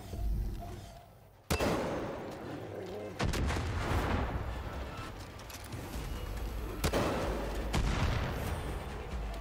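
Rocket launcher blasts from the Far Cry 5 video game, used while hunting wild animals in co-op play: three loud booming explosions with long rumbling tails that fill the low end, alongside steady game background noise.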